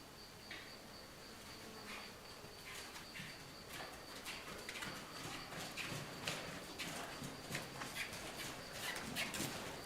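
A horse lopes under a rider, soft rhythmic hoofbeats repeating at a steady pace, faint and somewhat distant, with insects buzzing and birds calling in the background.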